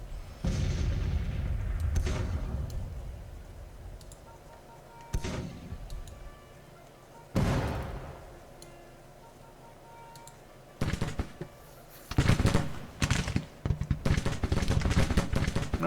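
Civil War cannon fire in the Grand Tactician strategy game, heavy booming shots at irregular intervals with long rumbling decays, then a denser cluster of blasts near the end, loud and without talk.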